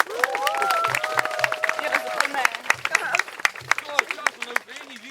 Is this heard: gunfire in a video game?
no